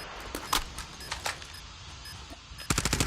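Gunfire in Call of Duty Mobile during a multiplayer match, scattered sharp bursts early on, then a rapid automatic volley at the end, fairly close and crisp.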